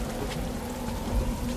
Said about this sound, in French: Je vais rester debout dehors sous la pluie jusqu'à ce que tu finisses par m'écouter.